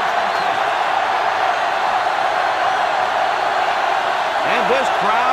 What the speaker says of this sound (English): And this crowd is going absolutely crazy.